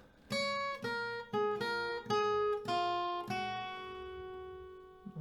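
Acoustic guitar picking the melody ending of a song, a string of distinct plucked notes at an even pace, the last one left to ring out and decay, played close and alone.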